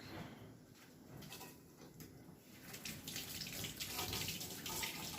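Water from a tap runs steadily and fairly softly into a sink while baby potatoes are washed by hand, with small splashes and handling noises and no talking.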